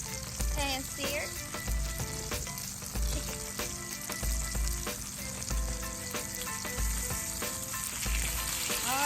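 Salmon pan-searing in a hot pan hisses with a steady, dense sizzle, broken by regular low thumps and faint clinks of stirring or handling.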